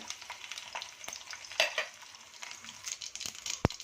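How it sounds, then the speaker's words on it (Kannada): Crushed garlic fries in a hot tempering for sambar, a soft continuous sizzle broken by stirring scrapes and light metallic clinks of a spoon against the pan. "ಬೆಳ್ಳುಳ್ಳಿ ಜಜ್ಜಿಬಿಟ್ಟು ಹಾಕ್ಕೊಳ್ಳಿ"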